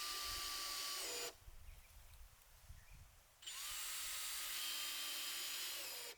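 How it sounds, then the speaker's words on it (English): A power drill drives screws into wood while a small workshop storage box is assembled: a loud, close, steady high whine for over a second, a quieter pause, then a second long continuous run to the end. "So I drilled in the screws to have it all come together."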